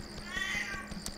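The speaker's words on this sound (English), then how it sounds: "Grendel is also having fun meowing there in the background." A cat named Grendel gives a single drawn-out meow with a rising and falling pitch. It is moderately close and sits over a soft background hum with faint ticking.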